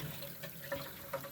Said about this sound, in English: So I might just rinse this out just a tiny bit around the edges